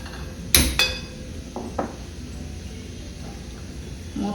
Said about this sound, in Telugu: మూత పెట్టేస్తున్నాను